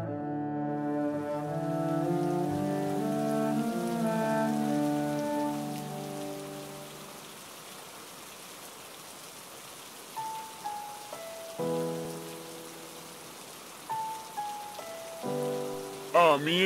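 Steady rain falls with a soft, continuous hiss under sustained musical tones that fade midway, leaving the rain alone with short tonal swells near the end.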